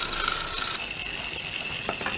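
A Beyblade Shogun Steel spinning top, BeyWarriors BW-12 Archer Griffen, is launched with a ratchet launcher, with a fast close buzzing rip of the pulled cord and then a few quick clicks.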